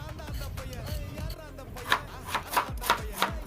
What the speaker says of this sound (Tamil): இந்த அளவுக்கு பொடியை நறுக்கி எடுத்துக்கங்க.